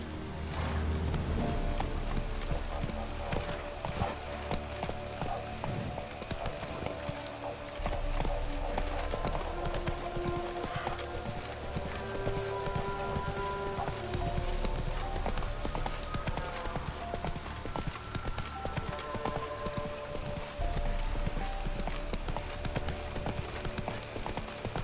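Hoofbeats of a galloping horse in The Witcher 3, a quiet, rapid clip-clop running under game music and ambience for most of the stretch.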